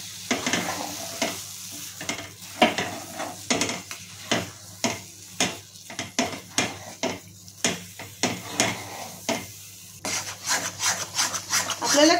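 Gooseberry mixture with black salt and spices beaten steadily for gooseberry candy, a fast rhythmic series of close scraping, rubbing strokes against a bowl, loud and without talk.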